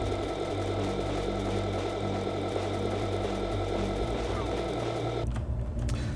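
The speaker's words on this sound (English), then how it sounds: "let's get all this stuff welded in" Blocks are welded in Space Engineers with a continuous mechanical whirring hum and layered tonal drone, steady and close, changing pitch near the end.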